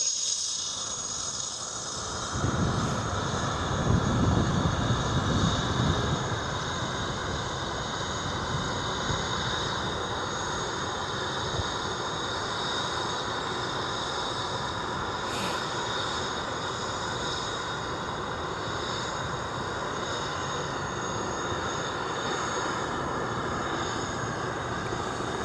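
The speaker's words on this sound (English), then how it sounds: "Scary copter." A helicopter passes over Boeing Field in Seattle, its steady rotor and engine roar holding loud and continuous, with a brief low rumble swelling early on before settling into a sustained drone.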